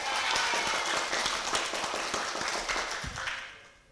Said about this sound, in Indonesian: Tepuk tangan untuk Kang Ajis.